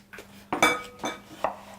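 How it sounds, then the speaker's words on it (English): A knife chops food on a cutting board in a family kitchen: four sharp, separate knocks with slight clinks, spaced unevenly, quiet and without talking. "Give it another chop for me."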